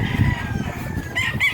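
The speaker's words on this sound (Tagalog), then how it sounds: "Papatuka tayo dito ng ating mga alagang manok." Farm chickens cluck in a short busy burst, with a rooster's crow rising briefly near the end, close and fairly loud over low background noise.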